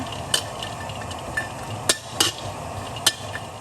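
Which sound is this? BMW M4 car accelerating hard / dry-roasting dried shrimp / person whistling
dry-roasting dried shrimp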